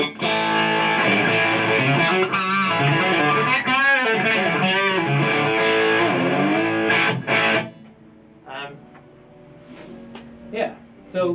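Electric guitar through an always-on overdrive pedal, the guitar's volume knob used to clean up the tone, plays loud gritty chords and notes that ring out, then fade into sparse softer picking.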